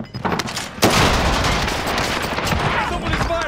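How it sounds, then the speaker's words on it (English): Rapid gunfire rattles in a battle royale shooter, a sharp loud crack followed by a dense, continuous stream of shots and impacts close by, lasting a few seconds with no clear speech. "Someone is firing on us."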